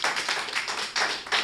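Short bursts of applause from an audience at a Hindi poetry gathering, clapping in several quick waves, close and fairly loud with no talk.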